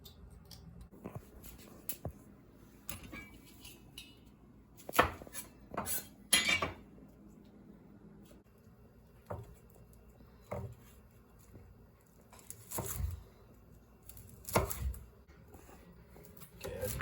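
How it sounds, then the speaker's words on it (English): A knife chopping Brussels sprouts on a board, with scattered sharp taps and clacks at irregular intervals, close but fairly quiet, with handling clatter of utensils between cuts and no speech. "Chop the stalk, take a layer off."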